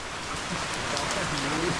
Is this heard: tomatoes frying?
no